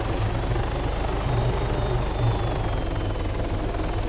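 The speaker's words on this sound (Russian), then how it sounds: "Слышно, как запаздывает реакция двигателя сильно." A helicopter engine and rotor in the game Arma 3 drone continuously, a loud steady low rumble with a faint turbine whine above, alone without talk.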